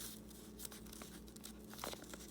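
Paper creases and crinkles while being folded into an origami flapping bird, a quiet, close run of soft rustles and small crackles, with one brighter crisp crunch near the end.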